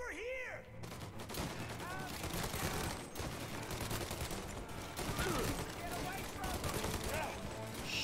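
Rapid, sustained gunfire in the Mafia Remake video game, dense volleys of shots close and loud for several seconds, with voices talking over the shooting.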